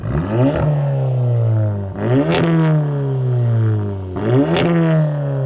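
A stage one Seat Leon Cupra tuned to 400 bhp revs hard three times, each sharp climb in pitch dropping back to a loud, steady idle, close up with no talking.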